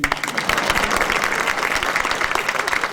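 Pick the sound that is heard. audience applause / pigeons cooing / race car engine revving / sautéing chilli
audience applause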